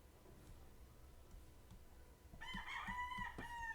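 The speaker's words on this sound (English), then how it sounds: "Me and that chicken, bro. Me and that rooster." A rooster crows loudly partway through, a clear strained call that follows a stretch of quiet background rustle.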